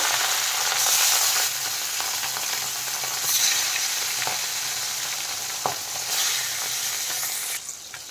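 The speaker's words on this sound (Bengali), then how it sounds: "এখন আমি দেখেন একটা একটা করে মাছ তেলের মধ্যে দিয়ে দেব।" Rohu fish pieces fry in hot oil in a wok, making a loud, steady, close sizzle with a few small pops and clicks.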